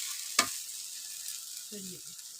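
Fish cooking on a wood-fired clay chulha gives a steady sizzle with a sharp clatter early on and a couple of brief low knocks near the end.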